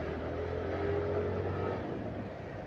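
A large motorcycle accelerates through morning city traffic with a steady engine drone that holds strong, then eases slightly, under wind noise with no talking.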